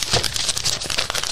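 Pages of a small book flipped quickly by hand, a dense papery rustle of rapid crinkling flutters lasting just over a second, close and fairly loud with no talking.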